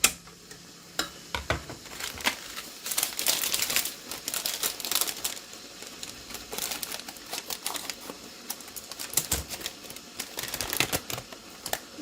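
Crinkling plastic spice bag of cinnamon and cloves handled up close, irregular rustling bursts rising and falling with short pauses.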